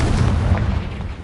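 Confringo spell explosion in the video game Hogwarts Legacy: a single loud, deep boom with a rumbling tail lasting about a second.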